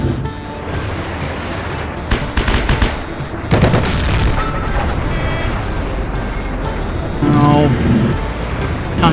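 Machine gun fire from the video game Heroes and Generals, loud rapid bursts of automatic gunfire with booming shots, mixed with other battle noise throughout.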